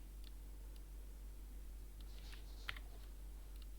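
A computer keyboard typed on lightly, entering numbers for a search program demo: a few faint, scattered clicks over a steady low hum, alone with no voices.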